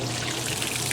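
Water gushing steadily from the drain hose of a Kenmore 80 Series washer onto a basement concrete floor, a continuous close hiss and splatter throughout with no talking.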